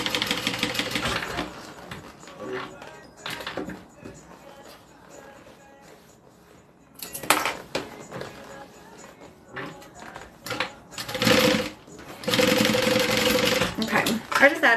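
A sewing machine stitching a fabric bag, bursts of fast mechanical whirring and clatter separated by pauses, close by, with a voice speaking between and over the runs.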